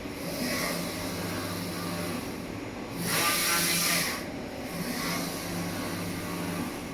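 Focus Atlas 1311 UV printer printing white, color and varnish in one pass, giving a steady mechanical hum and hiss with a louder whooshing carriage pass in the middle, continuous and close.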